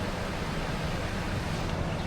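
Steady, dense rush of falling water near the Golden Waterfall in Taipei, a loud continuous roar with no talking, holding even for about two seconds.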